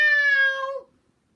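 A voice imitates a loud, sudden cat meow, one drawn-out tonal cry that falls off quickly into silence.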